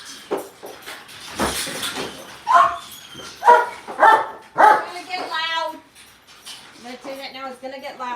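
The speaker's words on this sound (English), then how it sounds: "So back here we have 3 dogs" Several dogs kept outdoors bark in a quick series of loud, close barks, followed by higher whimpering yips, with a person talking over the start.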